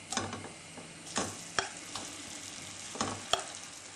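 Leek batter hits hot sunflower oil in a pan with a faint, soft sizzle, punctuated by several sharp utensil taps and scrapes, heard close with no talking.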